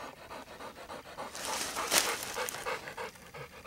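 A Bluetick hound pants steadily and rhythmically after treeing a raccoon, the quick breaths close and clear, with a brief louder burst partway through.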